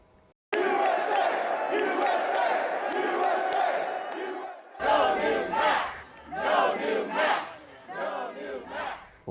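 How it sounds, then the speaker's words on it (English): Large crowd protesting against redistricting in Indiana, a loud sustained roar of shouting voices followed by rhythmic chanting bursts rising and falling. "Large crowds came out against redistricting, with more modest crowds in favor."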